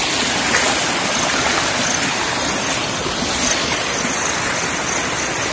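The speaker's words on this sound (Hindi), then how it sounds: "देखिए छोटा छोटा नाली भी कैसा भर चुका है," Water rushing steadily through a small, brimming drain in a forest after rain, a loud, continuous broadband wash that runs unbroken and close to the mic with no voices.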